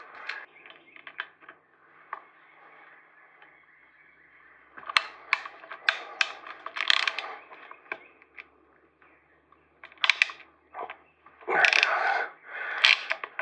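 Torx bit turned in a fastener on a Moto Guzzi T3 engine, with a string of short metallic scrapes and clicks, near and intermittent, with louder bursts in the second half.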